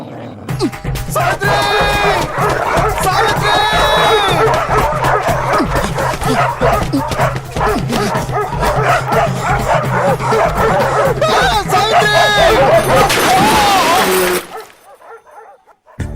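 Several dogs bark loudly and continuously with yips and whimpers, close by, over a steady low hum for about fourteen seconds before the noise drops away.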